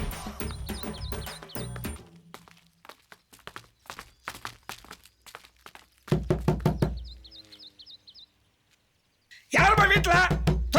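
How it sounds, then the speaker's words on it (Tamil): Someone knocks repeatedly on the door of a house, loud sharp raps in quick clustered bursts separated by pauses, with a dramatic music sting and other sounds mixed in. "எதுக்கு இப்படி தட்டுறீங்க?"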